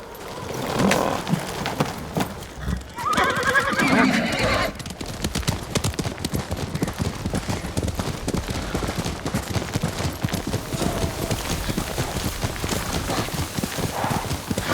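Horse hooves clop steadily through a snowy ride in the Ghost of Tsushima video game, with a neigh near the start and a denser burst of noise in the first few seconds, then continuous close trotting to the end.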